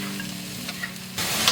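Pork ribs stir-fried with dried radish and dried seafood in a wok, a steady close sizzle with scraping stir strokes that swells louder near the end.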